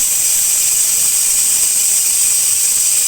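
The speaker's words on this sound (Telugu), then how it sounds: "కుక్కర్ మూత పెట్టి 10 విజిల్స్ వచ్చే వరకు మనము ఈ తలకాయ" Pressure cooker on the stove with goat head curry inside, its whistle releasing steam in a loud, steady, high hissing squeal that holds unbroken throughout.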